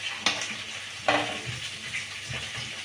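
A labra mixed vegetable curry with coriander leaves is stirred in a frying pan, with two distinct scraping knocks against a steady, soft sizzle.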